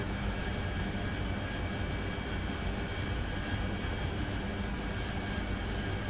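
Inside the DCS World flight game, the jet engine of an AV-8B Harrier roars in a steady, dense drone with a faint high whine, loud and unbroken throughout, with no voices.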